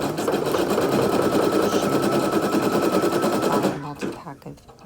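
A Brother PE800 embroidery machine stitches a tea towel with a fast, steady mechanical chatter that runs loud and close for about four seconds, then stops, leaving faint clicks and settling noise.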